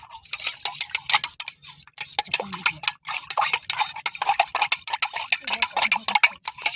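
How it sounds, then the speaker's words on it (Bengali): A utensil stirs batter round a bowl in a home village kitchen, making quick, rhythmic scraping clicks and clinks that continue steadily at close range, with occasional soft sounds in the background. "ভালো করে গুলে নেবো।"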